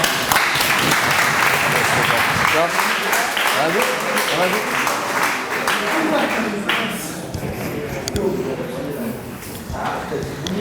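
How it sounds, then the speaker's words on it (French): Audience applause at a mock trial of the French Revolution in Pré-Saint-Gervais, loud and sustained throughout, dipping slightly near the end, with voices and chatter mixed in. "On va l'applaudir."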